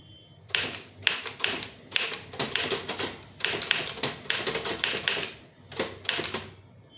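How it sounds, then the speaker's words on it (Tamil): Keys clack in quick bursts as someone types a letter on a keyboard, the rapid taps grouped in several runs separated by short pauses, close and clear with no voices. "டைப் பண்ணியாச்சு."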